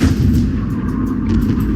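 Heavy gunfire from a combat video game booms in dense, continuous low rumbling thuds, loud and close throughout the short stretch, with no speech.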